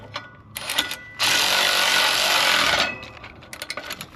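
A disc opener is tightened down after a shim is removed, giving a burst of loud, harsh power-tool whirring about a second and a half long. Shorter mechanical clatters and knocks come before and after it.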